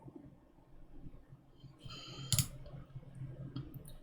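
A computer mouse clicks on a filter button in a spreadsheet: a faint, crisp single click near the middle and another softer one near the end, over quiet room noise.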